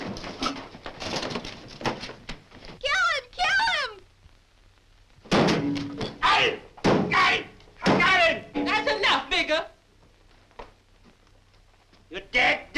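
A door is shut with a dull thunk during a tense 1951 drama scene, surrounded by frantic, excited voices shouting over one another.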